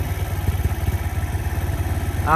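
An engine runs steadily at high speed against its rev limiter, its rapid, pulsing drone chopping rhythmically, fairly close and with no voices.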